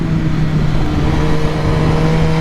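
A tuned 2021 MV Agusta Rush motorcycle, its engine flash-tuned by BT Moto, held at full throttle, producing a loud, steady, unbroken roar throughout.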